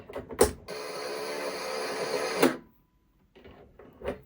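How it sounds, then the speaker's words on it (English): A sewing machine winds a bobbin of thread in one steady whirring run of about two seconds, framed by clicks and clunks as it starts and stops, then a few quieter handling knocks. "So I'm going to wind a bobbin of the exact same thread"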